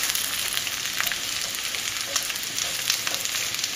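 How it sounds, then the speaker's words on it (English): Potatoes fry in a pan with a steady, loud sizzle throughout, with faint scrapes and clinks as they are stirred. "just going to cover it up, stir our potatoes"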